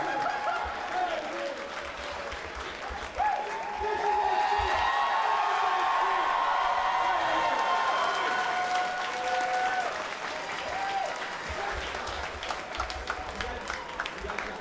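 A large arena crowd at a robot fighting show applauds loudly and steadily for about fifteen seconds after an emotional win, with scattered cheers, whoops and laughter mixed into the sustained clapping.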